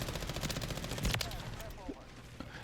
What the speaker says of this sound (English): I'm shooting at the decorations on the wall.